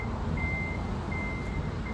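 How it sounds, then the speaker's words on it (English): A truck's reversing alarm beeps in slow, evenly spaced tones over a constant rumbling engine and outdoor background noise, fairly close by. "the truck's coming in, you're probably going to hear it"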